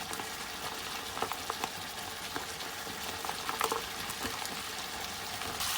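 Chicken ginger with cabbage fries in a pan, giving a steady bubbling sizzle broken by small pops and crackles, close and continuous without talk.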